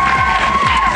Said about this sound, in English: We've got a big clap and the Penguin books for Andrew